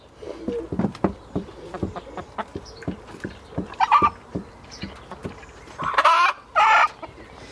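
Hens cluck and squawk in short bursts over a steady patter of pecking sounds, with a few louder cackles near the end.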